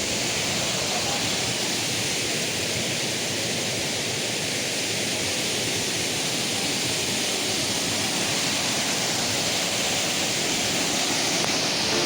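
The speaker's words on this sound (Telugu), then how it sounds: "ఇదిగోండి కొత్తపల్లి వాటర్ ఫాల్స్. ఈ వాటర్ ఫాల్స్ ఇలా కిందకి వచ్చి ఇలా వెళ్తున్నాయి." The Kothapalli waterfall pours down in a constant, full roar of falling water, close and loud, a steady hiss and rumble that never lets up and has no talking over it.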